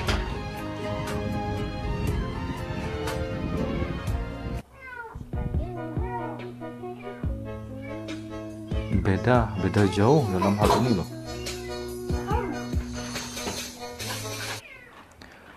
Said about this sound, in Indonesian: Maaf teman-teman ya jika ada suara kucing yang mengganggu.